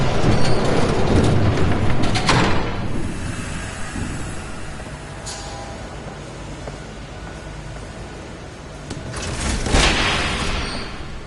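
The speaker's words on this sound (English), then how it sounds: "There's a train coming. Take cover." A train rumbles past in a Batman video game, a loud heavy roar that swells at the start, eases through the middle, then surges again near the end.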